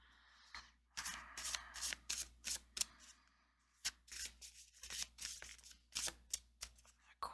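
Dante's Inferno Oracle cards are shuffled in a series of quick, crisp riffling bursts with brief pauses between them, close and fairly soft.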